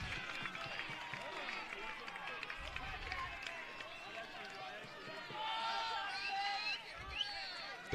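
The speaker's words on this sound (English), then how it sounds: "The Bourne crowd rowdy after catching that break" A rowdy crowd at a Cape Cod League championship baseball game, Orleans at Bourne, cheers and chatters as a broad distant roar that swells near the end, blended with speech babble.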